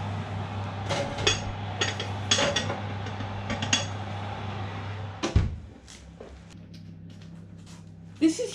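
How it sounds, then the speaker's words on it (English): Metal clinks and clunks from a kitchen while a shoulder of lamb goes into a hot oven for a Roman-style cooking session. Scattered sharp knocks and rattles ring out, then a louder bang midway like a door shutting, with quieter clatter afterwards. "Now the oven's up to temperature, we'll put the meat"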